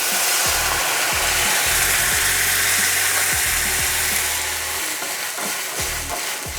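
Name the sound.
Marsala wine deglazing a hot pan with shallots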